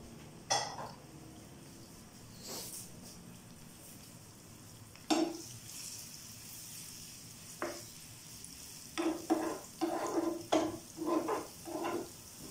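Dal tadka being stirred and fried in a pan, with soft sizzling and several scraping strokes of a spoon against the metal, sparse at first, then in a quick cluster of stirs toward the end, fairly close and with no talking.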